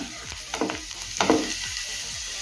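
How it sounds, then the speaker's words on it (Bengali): Garlic frying in sunflower oil in a pan, a soft continuous sizzle broken by a few louder scraping stirs, close and with no talking. "রসুনটা একটু ভাজা ভাজা করে নেবো"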